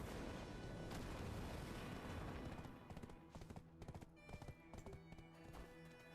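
Horse hooves clip-clop in the Black Desert video game, first under a thick rumbling mix, then as distinct rhythmic hoofbeats at moderate distance, fairly quiet overall.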